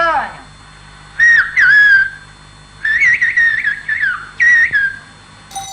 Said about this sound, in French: La langue sifflée d'As représente les vestiges d'un système de communication